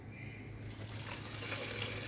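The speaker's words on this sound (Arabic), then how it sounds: "انا هضيف 4 كوبايات ونص من الميه المغليه بالشكل ده" Boiling water is poured onto Egyptian rice in a pot, a soft steady splashing gush that stays quiet and continuous, with no talk.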